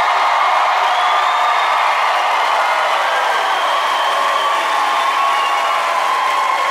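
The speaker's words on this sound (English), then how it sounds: "that's very kind of you to cheer for that" A comedy club audience at a stand-up special cheering and applauding, a dense, loud, steady wash of clapping with whoops and shouts, sustained for several seconds without letup.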